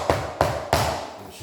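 Three firm taps land on a vinyl plank floor piece being seated into place near a door jamb, evenly spaced, close and sharp with short decaying rings.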